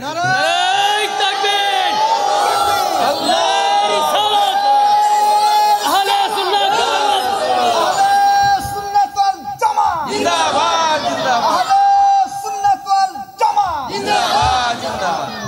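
A large crowd at a Bangla Islamic sermon gathering shouts takbir, loud chanted voices rising and falling in repeated waves that fill the space, with reverberant amplified calls among them.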